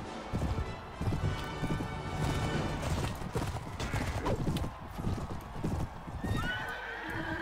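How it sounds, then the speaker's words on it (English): A horse gallops in the video game Mount and Blade: Warband with a steady run of clip-clop hoofbeats and a whinnying neigh, battle noise around it and no clear speech. "I need a better horse."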